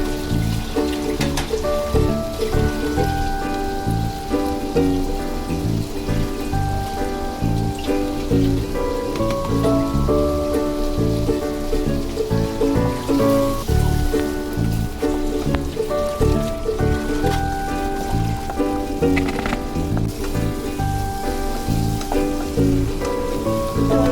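Prawns fry in a pan with Kashmiri red chilli for a Bengali-style malai curry, giving a loud, continuous sizzle like rain on a surface, with dense crackling and stirring throughout and no talking.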